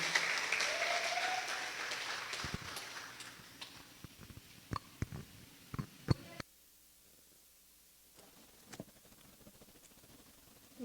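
A church congregation applauds, a dense wash of clapping that fades out over several seconds, leaving scattered faint taps and knocks in a quiet room.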